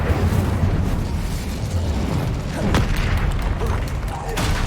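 Incendio fire spell cast in Hogwarts Legacy, a loud whooshing burst of flame with rumbling crackle sustained over a dense game soundscape, with some voice mixed in.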